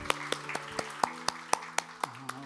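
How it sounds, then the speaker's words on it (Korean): A church congregation claps in thanks during a Sunday service, giving about ten evenly spaced claps in a steady beat over soft sustained music in the background. "우리 하나님께 감사의 박수를 드리겠습니다."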